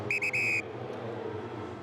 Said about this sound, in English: The referee has blown his whistle and he is saying that there was a foot trip